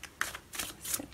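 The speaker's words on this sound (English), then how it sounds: "you can fast forward past the shuffling section if you'd like to" Tarot cards are shuffled close up in a quiet room, giving soft, quick riffling and flicking bursts repeated over about a second.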